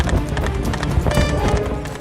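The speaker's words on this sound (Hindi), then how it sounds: "इस घोड़े की सवारी बड़े मजे से कर रहे हैं।" Hooves of a horse ridden along village roads by a man delivering electricity bills clip-clop in a steady, fairly loud trotting rhythm, with a busy background underneath.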